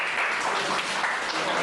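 An audience applauds at a ceremony, a dense, even patter of clapping from many hands that holds steady through a brief moment.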